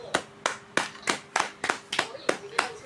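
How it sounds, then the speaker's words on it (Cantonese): A small group claps in a steady run of about nine sharp bursts, each fading quickly, for two contestants after a Clash Royale endurance battle between Clockwork Clock-neck and Bullet Griffin. The clapping is close, with faint background hum. "我想俾啲掌聲。"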